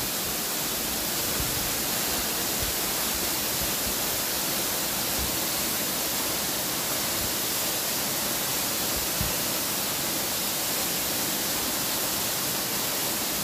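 Continuous, full-bodied roar of Pasalan waterfall in Negros Oriental, a constant wash of falling water with no breaks, close and steady.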